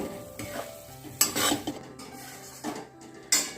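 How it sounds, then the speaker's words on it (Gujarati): Flour for Gujarati adadiya pak is stirred and roasted in a heavy kadai, giving irregular scraping strokes and clinks of the spoon against the metal over a soft sizzle, close up and with no voices. "અડદિયા પાકમાં આને હલાવવું ખૂબ જરૂરી છે"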